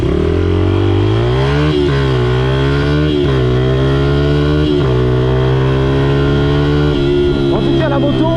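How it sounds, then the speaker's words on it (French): A motorcycle engine, recently rebuilt with a new piston and rings, revs loudly and continuously up close, its pitch climbing and dropping in several rising sweeps, with no talk over it. "la moto, elle a beaucoup plus de couple"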